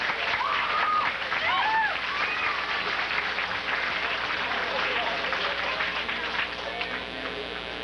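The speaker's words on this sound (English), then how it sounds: "if all of you kind folks would give them all a nice round of applause for their hard work tonight" Audience applauds the performers at a 1987 mall talent show in Rochester, New Hampshire, with a full burst of clapping that slowly thins out as it goes, while whoops and voices ring out over it.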